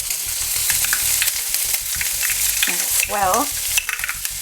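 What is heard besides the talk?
onions and garlic frying in a pan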